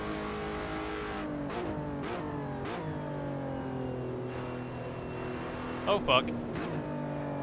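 A race car engine in the Assetto Corsa racing game revs hard and drops pitch through repeated gear changes, loud and continuous, with a sharp burst near the end and a brief spoken exclamation over it.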